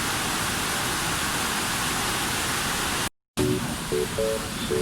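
Steady rain hiss fills the clip, broken by a brief dropout, followed by a few faint tonal beeps over the continuing downpour.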